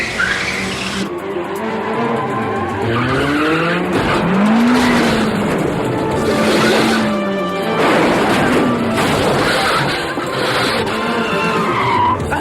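A brand-new Mitsubishi sports car in a film stunt skids hard, its tires squealing in long rising and falling wails over a continuous roaring engine and scraping noise. The sound stays loud and close throughout.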